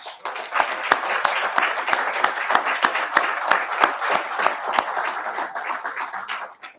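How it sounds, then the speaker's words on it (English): Sustained applause from an audience at an awards press conference honoring military family volunteers, dense and steady with sharp individual claps standing out, fading out at the end. "Let's give our honorees and their families and friends one more round of applause"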